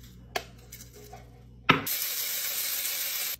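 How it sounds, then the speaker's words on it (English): Electric coffee grinder grinding rice to clean and sharpen it: a few grains clink in, then the grinder starts abruptly with a loud, steady whirring roar that runs close up for nearly two seconds before stopping. "You can clean and sharpen a coffee grinder with rice."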